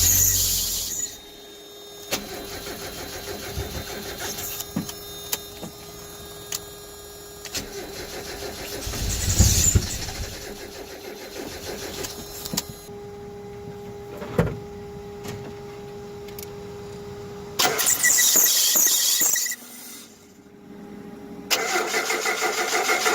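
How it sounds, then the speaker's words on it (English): A Mazda Miata's starter cranks in several separate bursts, whirring repeatedly as the engine refuses to catch, with pauses of near-silence between tries. "Unfortunately, the car does not start. Starter right now is working"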